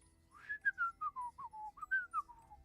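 A person whistles a short, lilting tune of about a dozen quick gliding notes, each dipping in pitch, fairly close and clear over a quiet background.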